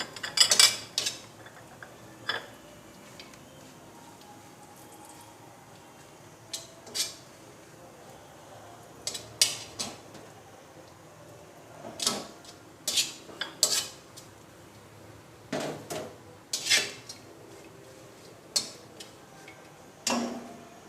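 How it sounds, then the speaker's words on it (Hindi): Pistachios roasting in a pan on low heat are stirred with a utensil, giving sparse, sharp clicks and scrapes of nuts and metal against the pan, spaced irregularly over a quiet background. "ये पिस्ता है मेरे पास, इसको भी इसी तरह रोस्ट कर लें।"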